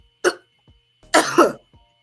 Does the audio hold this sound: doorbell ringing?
no